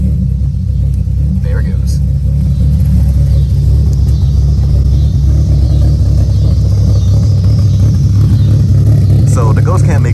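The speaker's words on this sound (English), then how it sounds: "the ghost cam makes this car actually a lot louder" A Camaro engine with a ghost cam idles with a deep, lumpy, uneven exhaust rumble, loud and steady throughout, while someone speaks briefly over it.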